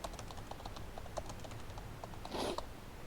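Fingers type a name on a computer keyboard in a quiet room, a rapid, faint, irregular patter of key clicks with one slightly louder clatter near the end.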